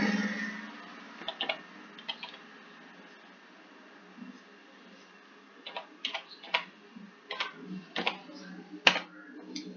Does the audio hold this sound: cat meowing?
no